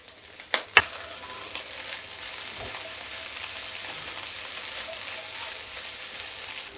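Minced keema fries in a pan with green chillies and dried coriander, giving a steady close broadband sizzle with a few sharp clinks of a spoon early on, no voices.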